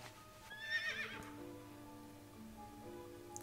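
A horse whinnies once in World of Warcraft, a bright, rising neigh up close that fades into a low, steady in-game drone, with no one talking.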